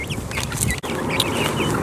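Chickens cluck and chatter continuously at close range, a busy overlapping flock sound with no talking over it.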